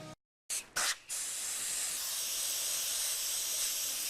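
Brief on-off bursts of spray give way to a continuous, even hiss of an airbrush spraying close by.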